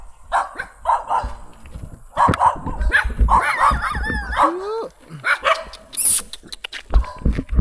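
Several dogs bark and yip in bursts at close range, with some whining, while people talk intermittently nearby.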